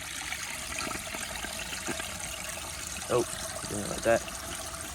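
A 1959 American Standard Master one-piece toilet flushes with a grocery bag in the bowl: steady rushing, gurgling water runs throughout, and someone speaks briefly near the end.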